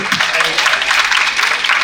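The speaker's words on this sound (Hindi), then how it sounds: "इनके लिए जोरदार ताली" Audience applause at a film festival event, a dense, loud, continuous roar of many clapping hands filling the whole stretch without pause.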